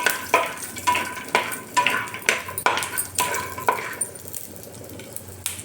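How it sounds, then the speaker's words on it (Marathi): Peanuts roasting in oil in a pan, stirred in repeated scraping strokes roughly every half second against a steady sizzle, close and moderately loud, with no talking. "त्यामध्ये आपण आता शेंगदाणे हे भाजून घेऊ."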